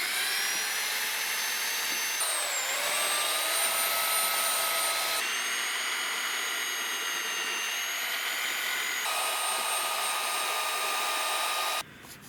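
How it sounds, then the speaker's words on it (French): Drill spinning a steel wire brush against a dirty aluminium motorcycle engine cover, giving a steady high whine with grinding scrub that shifts in pitch as pressure changes, running continuously before cutting off near the end. "je vais commencer déjà à le dégrossir avec une brosse de fer, avec la grosse visseuse"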